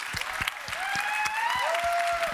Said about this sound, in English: Huge round of applause for all.